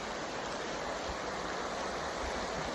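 A river flows somewhere below a riverfront trail near Blairsville, Pennsylvania, giving a steady, even broadband rush that holds unchanged throughout, with no voices over it.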